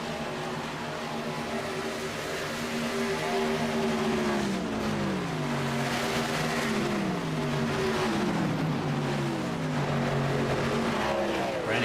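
Race trucks roar past in a pack at Auto Club Speedway, engine notes rising and falling in Doppler sweeps as several trucks pass close and loud one after another, with a constant engine drone underneath.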